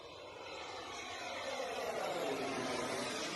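A radio-controlled model plane flies past, its engine a steady, whining broadband roar that swells gradually over about three seconds before cutting off abruptly.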